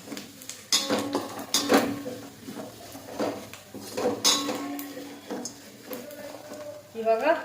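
Spices, turmeric among them, stirred in a pan for a crispy puffed-rice chaat, with clinking metal scrapes and knocks of a utensil against the pan under a person talking.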